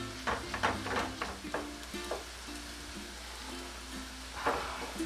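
Garlic and fresh vegetables frying in a pan for beer chili, a steady close sizzle with spatula stirring scrapes and clacks over a low hum, no talking.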